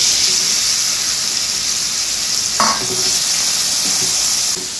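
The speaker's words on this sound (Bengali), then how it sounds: "আমি চিংড়িটা এখন নুন হলুদ দিয়ে ভেজে নেব।" Prawns fry with salt and turmeric in a pan for a Bengali bottle gourd and prawn dish, a loud steady hiss of hot oil with a brief clunk of a utensil midway, close and unbroken until it ends.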